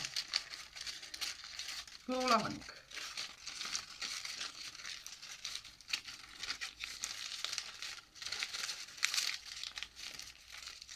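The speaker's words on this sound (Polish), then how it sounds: "A następnie zwijamy kartkę" Paper sheet crinkling as it is rolled around a drinking straw for a craft flower, with a soft continuous rustle and a brief louder crumple early on, fairly faint and close.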